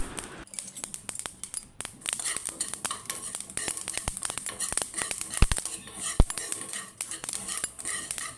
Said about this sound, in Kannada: ಒಂದು ಸ್ಪೂನ್ ಆಗುವಷ್ಟು ಸಾಸಿವೆಯನ್ನು ಅದರೊಳಗೇ ಚಟಪಟ ಅಂತ ಹುರಿದುಕೊಳ್ಳಿ